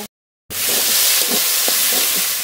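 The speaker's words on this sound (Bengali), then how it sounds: "এবার একটু নেড়ে নেড়ে ভেজে নেব" Pointed gourd and onion stir-fried in a pan give off a steady, close sizzling hiss that starts suddenly after half a second of silence, with faint soft stirring knocks underneath.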